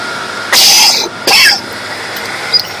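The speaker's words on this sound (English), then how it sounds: "Sorry for coughing so much, but my throat gets a little scratchy." Two harsh, scratchy coughs from a person with an irritated throat, close and fairly loud, separated by a short pause over a quiet background hiss.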